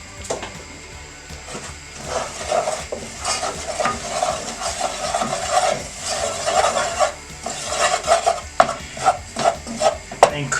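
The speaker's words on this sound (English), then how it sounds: "so that's the butter. You can hear it sizzling." Butter sizzles steadily in a pan while a utensil stirs and scrapes rhythmically, growing busier toward the end.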